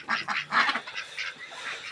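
Indian Runner ducks quack in a quick cluster of raspy, nasal calls, close and fairly loud, a few overlapping over under two seconds.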